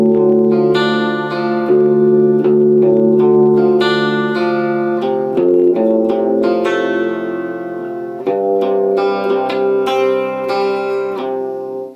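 Electric guitar tuned a whole step down plays an intro riff with effects, loud and close: sustained low chords struck in a repeating pattern with bright picked accents, and no talking.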